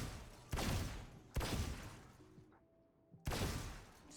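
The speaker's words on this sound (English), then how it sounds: "You caught me in the middle of shooting practice." Gunfire at shooting practice in Valorant: three loud, sharp bursts spaced about a second apart, each ringing out and fading, with a short quieter gap before the last.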